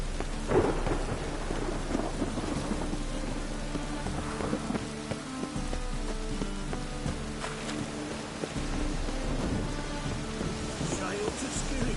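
A thunderstorm in The Witcher 3 brings constant heavy rain with deep rolling thunder rumbles and a few sharper cracks, all under soft music.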